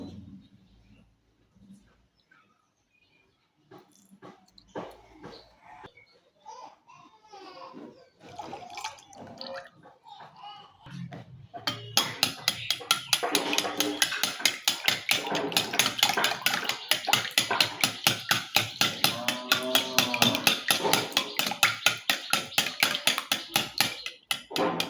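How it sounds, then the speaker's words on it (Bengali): Ingredients for a sugar-free chocolate cake, including eggs, cocoa powder, oil, thickened milk, baking powder and rice flour, are beaten as batter, starting with sparse clinks and taps, then settling into a fast, rhythmic, close whisking clatter that runs steadily to the end. "ভালো করে মিশিয়ে নিতে হবে উপকরণগুলো। এভাবে 5 মিনিট ফেটিয়ে নিতে হবে।"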